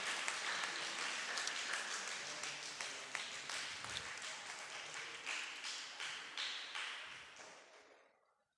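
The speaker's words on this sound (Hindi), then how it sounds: "हुमायूं खान साहब, ज़बरदस्त ताली आनी चाहिए भाई, ये बच्चे अगर ताली इस उम्र में नहीं बजाएंगे तो कब बजाएंगे।" Applause from an audience of school students at a poetry recitation event at an inter college in Gazipur: sustained clapping with sharp individual claps standing out, loud at first, then gradually thinning and fading to silence at the end.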